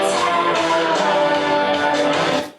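Slowed, pitched-down loop from the pre-chorus of a song, a dense, warm wash of blurred vocals and instruments, steady and loud, fading out at the end.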